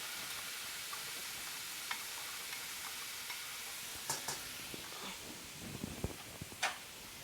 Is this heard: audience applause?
no